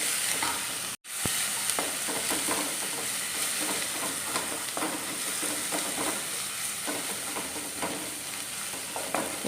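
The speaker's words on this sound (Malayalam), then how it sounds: "നല്ലപോലെ ഇഞ്ചിയും വെളുത്തുള്ളി ഒക്കെ ഒന്ന് നല്ലപോലെ പച്ചമണമൊക്കെ ഒന്ന് മാറുന്നോടം വരെ ഒന്ന് നന്നായിട്ട് ഇളക്കി മിക്സ് ചെയ്ത് കൊടുക്കാറ്" Ginger garlic paste frying in oil for lemon pickle, stirred steadily in a pan: a constant close sizzle with repeated scraping strokes and a brief silent gap near the start, no talking.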